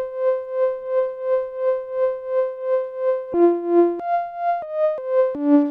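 A modular synth tone swelling up and down in smooth, even waves from a triangle-wave LFO, then jumping through several different pitches while the gentle throbbing continues.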